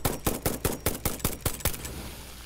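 Eight rapid, evenly spaced gunshots from the player's weapon in the factory-building video game Satisfactory, crisp and close, followed by a brief fading tail with no talk.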